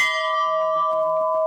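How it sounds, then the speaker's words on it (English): A single loud strike on an old, heavy lunch bell rings out with a clear metallic tone and sustains steadily, humming as it slowly fades, with faint clatter underneath. "Here they even have an old lunch bell"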